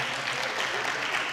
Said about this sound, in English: So why don't we give him another round of applause?